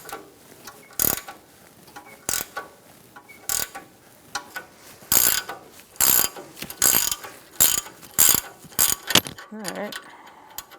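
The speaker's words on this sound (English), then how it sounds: "I'm going to hold the stud still with a 10mm socket and use a ratchet wrench for the nut, which is a 21mm." Ratchet wrench turning a 21mm tie rod nut on a 2007-2017 Ford Expedition front end, a string of loud, close clicking bursts repeating in uneven rhythm with short pauses between strokes, no talking.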